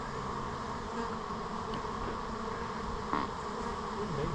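Honey bees drone steadily at a top bar beehive, a dense continuous buzz filling the whole stretch at close range, with one brief louder swell near the end.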